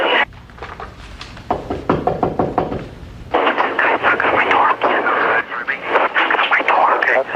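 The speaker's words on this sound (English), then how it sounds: "That's one of us knocking on the door." Rapid knocking and pounding on a door, loud and close, arrives in uneven bursts while radio chatter and a tense voice crackle over a 911 rescue call.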